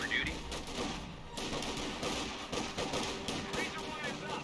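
Riflemen and Grenadiers trading rifle and machine-gun fire in a Company of Heroes 2 battle, a busy crackle of shots with voices talking over the gunfire.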